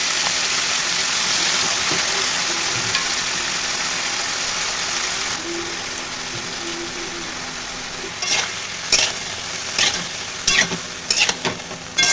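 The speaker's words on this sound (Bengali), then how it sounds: "লঙ্কাটা ভাজা হয়ে গেছে" Chili frying in hot oil gives a steady, dense sizzle for several seconds, then settles as a utensil scrapes and stirs the pan in a series of short clattering knocks near the end.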